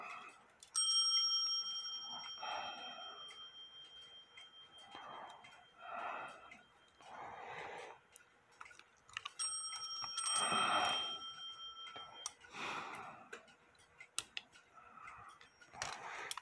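Bell of a WUBA Warmink Dutch clock ringing during a function test after repair, several clear metallic strikes with long sustained overtones spread across the clip, close and fairly loud, among quieter handling noises.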